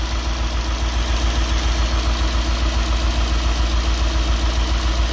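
A Nissan D40 Navara fitted with a swapped-in V8 idles steadily close by, with a deep, even low rumble and a slight rhythmic knock running through it.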